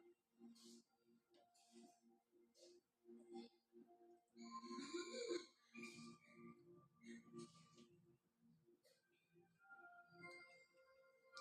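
A kummatti soda drink of orange, basil seeds, soda, ice and sugar is stirred in a glass, with faint clinks of spoon on glass and soft fizzing, punctuated by quiet voices nearby.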